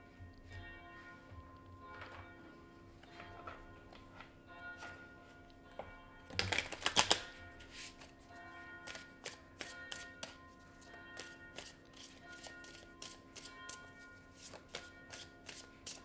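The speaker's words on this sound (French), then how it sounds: "Je vais aller chercher 4 cartes des Banksy." Tarot cards are drawn and shuffled by hand during a love reading, a quiet run of soft papery taps and rustles, with one denser shuffling burst partway through.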